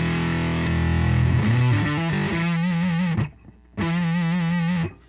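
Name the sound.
1972 Les Paul Standard through Amptweaker TightFuzz Pro fuzz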